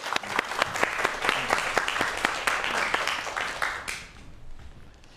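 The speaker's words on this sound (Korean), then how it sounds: "박수 부탁드리겠습니다." A lecture audience applauds with steady, lively clapping for about four seconds, then the clapping quickly fades away.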